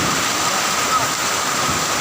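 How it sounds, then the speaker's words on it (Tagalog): Heavy rain during a thunderstorm pours down in a dense, steady hiss, loud and close, with no pauses or talking. "Oh, lakas ng ulan."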